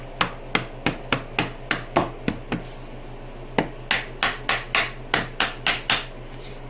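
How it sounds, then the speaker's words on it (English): A small plastic-ended hammer taps pieces into a glued wooden joint, about twenty sharp, close knocks in quick rhythmic bursts with a brief pause midway, no voices over them. "Take a little hammer here."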